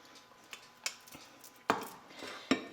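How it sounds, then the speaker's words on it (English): A spoon knocks and scrapes against a dish while ladling sauce over a stuffed pepper, giving a few sharp, separate clinks spaced unevenly across a quiet kitchen. "Then I'm going to spoon a little of the sauce over the top."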